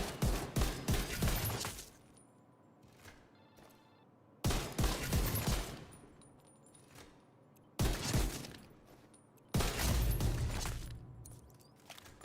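Sacrum weapon in The Division 2 firing in rapid, loud bursts of gunshots, four separate volleys of a couple of seconds each, with quieter mechanical clicks and rattles in the gaps and no talk.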